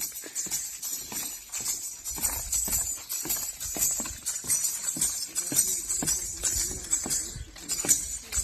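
A decorated white mare draped in zari embroidery, hired for weddings, clip-clops its hooves in a steady, fairly close rhythm of sharp knocks over a busy background hum.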